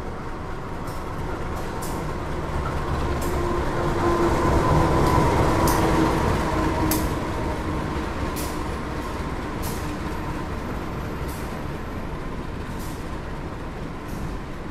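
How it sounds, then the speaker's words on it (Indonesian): Dharmawangsa economy train pulling in at platform 1 of Pasar Senen station, a continuous rumbling roll with faint rail clatter and squeals, swelling midway then easing as it draws alongside. "Nanti kereta api Dharma Wangsa akan masuk di jalur 1 ya."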